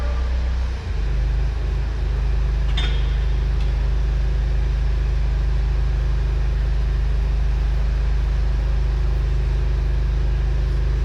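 An ex-military John Deere 850J dozer, running without engine oil, drones as a loud, close, steady low-frequency engine rumble with little variation, a brief knock near the start.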